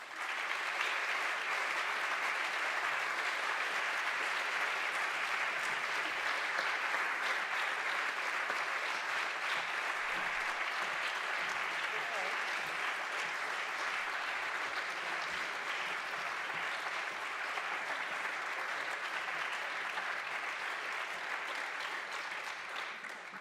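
Sustained applause from an audience at a celebration evening for a winning team called on stage, steady and dense throughout with no pause.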